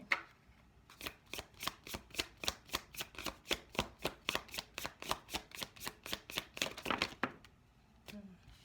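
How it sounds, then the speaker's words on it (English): A deck of tarot cards being shuffled, a close, quiet run of about two dozen evenly spaced riffling snaps lasting several seconds, with faint sounds before and after. "Y'all cards are shooting out, okay?"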